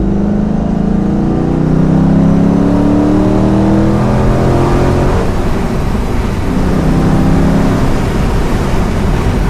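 A Corvette C5 Z06 V8 roars loudly as it accelerates, its engine note climbing steadily through the revs in a continuous close, heavy drone, with no voices over it.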